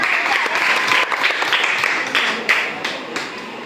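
Loud, steady applause from a school audience for quiz contestant Durga during a quiz program at a Zilla Parishad upper primary school, a dense wash of clapping that dips briefly midway and continues to the end.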